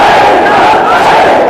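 A large crowd at a live religious rally in Johar Town loudly chanting the slogan al-jihad in unison, a dense sustained roar of many voices.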